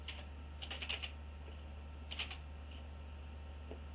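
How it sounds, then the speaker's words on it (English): Keys clatter on a computer keyboard as a network command is entered on a Windows machine, several short close bursts of typing separated by pauses over a steady low hum. "What we have to do is type in net use, and we type in our UNC path"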